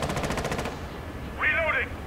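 Rapid bursts of automatic gunfire in a first-person shooter video game, a fast rattling volley in the first half followed by a brief sharper sound effect, with no speech.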